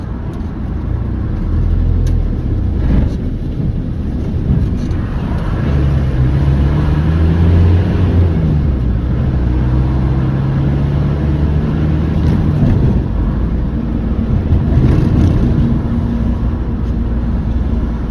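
A truck engine runs loud and close at the roadside, a heavy low rumble with a rising and falling droning tone in the middle and no voices.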